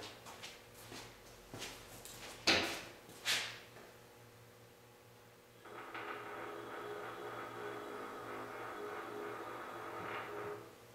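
A crane lowering a load during a long-travel suspension build, low, drawn-out mechanical groaning and creaking, with a few sharp knocks early on, then a steady grinding strain that holds for several seconds before easing.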